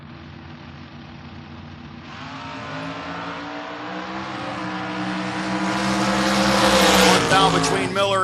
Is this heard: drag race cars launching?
yes